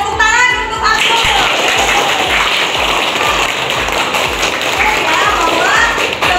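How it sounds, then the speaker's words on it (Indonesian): Children in a classroom clap together in a fast, even rhythm, loud and close, with young voices chattering over it. "tepuk tangan untuk aku"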